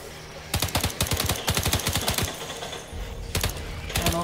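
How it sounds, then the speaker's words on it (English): Rapid automatic gunfire in Earthfall aimed at a tree, several quick rattling bursts of evenly spaced shots, loud and close, with short pauses between volleys. "I think they're shooting this tree."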